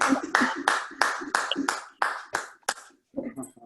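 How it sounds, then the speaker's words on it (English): A few people clap at a virtual Rotary Club of Raleigh meeting for a vocational service award recipient: about eight steady claps in an even rhythm, fairly close, then a short stretch of talking near the end. "please give a virtual round of applause"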